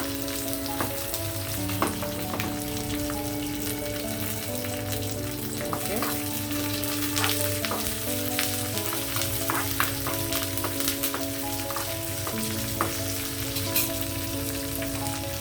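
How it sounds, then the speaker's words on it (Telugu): Curry leaves with cumin, mustard seeds and dried red chillies fry in hot oil for a dal tempering, a steady close sizzle with crackling pops and occasional stirring scrapes, no voices. "కరివేపాకు. వేగిపోయిన తర్వాత పప్పులో వేసేయడం."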